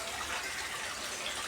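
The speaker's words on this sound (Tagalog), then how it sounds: "Hugasan natin ang tawala." Vegetables are washed under a steady stream of running tap water, a continuous soft gush heard alone at low volume.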